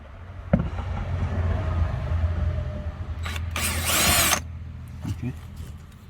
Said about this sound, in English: Oh, now he wants to drill.